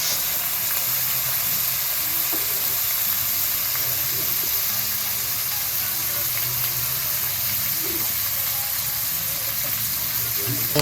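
Frog meat fries in its own rendered oil with a steady, dense sizzle and hiss that stays loud and unbroken throughout, with faint bubbling underneath.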